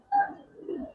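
A single soft, low coo from a Giribaz pigeon in a loft, brief and fairly faint, with no voices over it.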